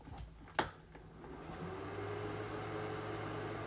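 After a sharp click, a small electric fan starts up nearby and settles into a steady, quiet whirring hum.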